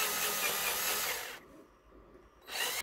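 An electric drill bores a hole for a battery connector on an electric bicycle battery build, whirring loudly and close for over a second, falling silent briefly, then starting up again.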